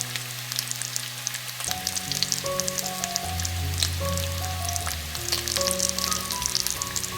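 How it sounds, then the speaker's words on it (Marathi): Green masala paste of ginger, garlic and coriander fries in oil with browned garlic, making a steady crackling sizzle beneath background music. "हे वाटण छान तेलात परतून घ्यायचं आहे"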